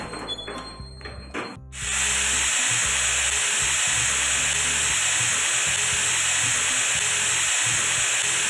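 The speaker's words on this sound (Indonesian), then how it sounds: "Mesin akan mulai mengeluarkan uap setelah 15 detik dengan suara yang khas" After a few seconds of faint clunking, a hospital room disinfection machine releases a loud continuous hiss of steam that holds steady, close and unbroken.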